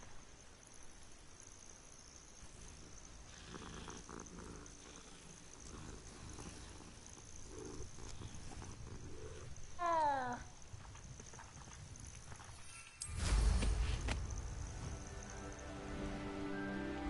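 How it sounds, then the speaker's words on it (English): A cat meows in Hogwarts Legacy, a short run of rising, chirpy calls partway through over a steady game backdrop, followed by a louder burst of rumbling noise. "Oh, it's a kitty."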